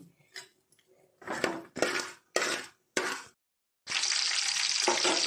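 Mustard seeds and split black lentils hit hot coconut oil in a pan, with a few clinks and scrapes of a spoon before a loud, steady sizzle that fills the last seconds.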